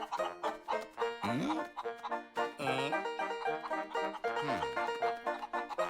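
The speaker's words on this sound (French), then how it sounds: "Monsieur Peabody, derrière vous, des poules avec des dents" Chickens cluck and squawk in rapid bursts, several birds close by and busy, with occasional drawn-out calls rising above the chatter.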